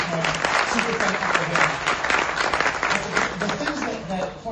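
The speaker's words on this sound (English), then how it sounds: "So round of applause for Ahmed." An audience at a project presentation breaks into lively applause. Many hands clap in a bright, dense burst while a speaker keeps talking over it.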